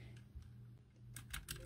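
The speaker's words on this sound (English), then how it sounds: "Sounds like a typewriter." Keys clack on a black retro punk typewriter-style mechanical gaming keyboard, a few quick, crisp, close strikes that come in a short burst near the end.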